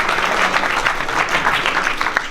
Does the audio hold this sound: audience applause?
yes